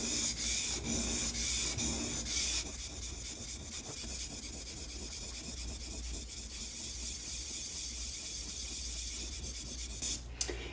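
A plane iron is sharpened freehand on a stone, with rhythmic scraping strokes that are louder and coarser at first, then settle into steady, softer rubbing up close.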